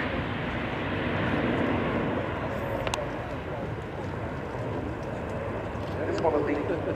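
An Airbus A400M Atlas test aircraft, driven by four turboprop engines, flies a display at an air show; a broad, distant engine roar holds steady throughout with a few faint crowd sounds.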